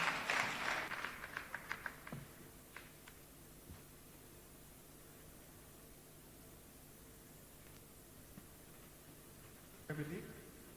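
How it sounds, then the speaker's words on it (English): Audience applause at a conference session, a burst of clapping right at the start that fades within about two seconds, then a brief second flurry near the end. "Can we give him a round of applause?"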